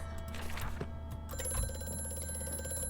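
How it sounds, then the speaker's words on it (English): A telephone rings in the horror game A Machine For Pigs, its bright electric bell trilling out after a quieter stretch of dim ambient noise and then ringing on steadily, moderately loud and alone. "I don't want to answer the phone yet."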